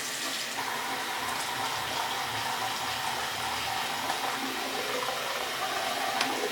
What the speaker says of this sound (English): I'm just going to run it through the faucet again.